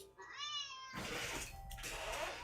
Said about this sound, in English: the cat meows sharply and dashes